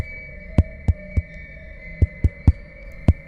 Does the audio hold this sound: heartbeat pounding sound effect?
yes